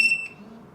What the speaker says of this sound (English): I will change them to beep